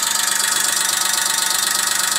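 Small Daewoo Matiz SE Plus three-cylinder petrol engine idling steadily at a car dealer, a continuous even hum with a slight tick, heard close with no talking.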